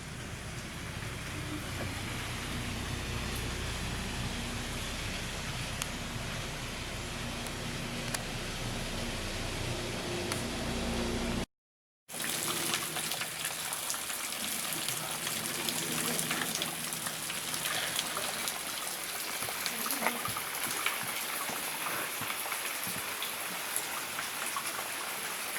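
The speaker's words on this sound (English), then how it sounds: "The sound of falling water begins to dominate now." Falling water on a Blue Mountains bushwalk track, a steady dense hiss and patter of cascading water, continuous and fairly loud, with one brief break partway through.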